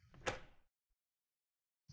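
A door in an Unreal Engine 4 horror game creaks open slowly, a single short scrape that fades within about half a second, with a soft thud of another door at the end and silence between.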